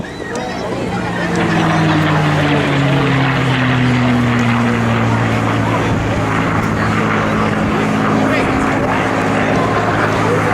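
P-51 Mustang with a Merlin engine roaring past, loud and close, with a falling pitch as it passes and a sustained throaty drone afterward.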